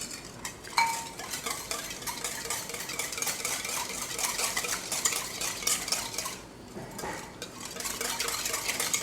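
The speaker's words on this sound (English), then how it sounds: "take a whisk, mix the whole ingredient nicely onto the with the sugar, jaljeera powder and everything in its mix" A whisk clinks and scrapes rapidly inside a bowl while sugar and jaljeera powder are mixed into a cold summer drink, with quick metallic ticks and a brief pause partway through.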